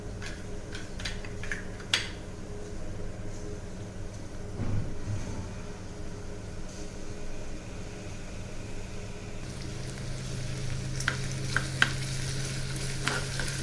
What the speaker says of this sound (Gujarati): હવે એક પેનમાં તેલ મૂકીને કેપ્સિકમના ઝીણા સમારેલા કટકા છે તેને 2 મિનિટ માટે સાતળી લેવાના છે